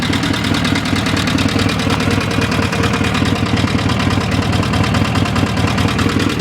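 A Sears ST16 garden tractor's opposed-twin engine idles steadily and close by, a continuous even throb with no talk over it.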